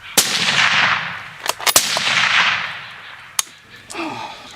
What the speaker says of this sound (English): Shoot him right when he's behind the tree.